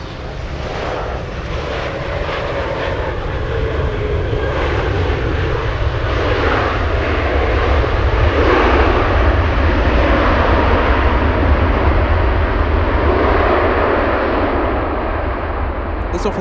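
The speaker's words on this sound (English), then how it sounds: "We have a 737 MAX coming in." A United Airlines Boeing 737 MAX jet arriving at Anchorage airport in gusty winds, a loud sustained engine roar with heavy low rumble that builds slightly and holds, close and continuous.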